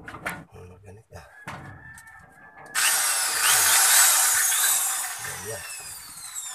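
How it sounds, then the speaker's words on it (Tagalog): A power drill used during electrical wiring work for a car wash spins up after several seconds of quieter knocks and handling, then runs as a loud steady whine that slowly fades. "Try natin itong grind na barena"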